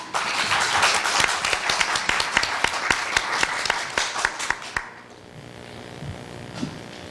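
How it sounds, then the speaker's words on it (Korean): Applause greets a student speaker stepping up at a university speech contest, many hands clapping loudly and densely for about five seconds, then breaking off into a quiet room. "네, 큰 박수로 맞아주세요."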